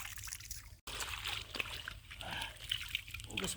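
Water splashes and trickles in light bursts as someone washes near a river by a farm field, heard faintly with soft voices in the background.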